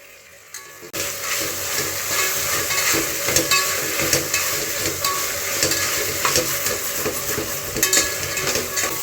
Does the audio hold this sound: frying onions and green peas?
yes